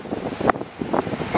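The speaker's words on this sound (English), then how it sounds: "It's kind of windy today." Blustery wind rumbles against the microphone, with surf washing faintly in the background and short gusts swelling and fading.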